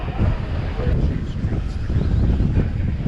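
Strong wind at the Panama Canal buffets the microphone with a continuous low rumble and gusty roar. No other sound is clearly distinguishable.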